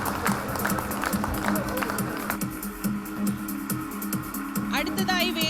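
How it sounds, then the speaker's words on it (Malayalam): Applause from the audience at the 2014 Fobma inaugural ceremony: a dense, steady patter of many hands that runs through the whole stretch, with a voice speaking over it. "Please give A big clap."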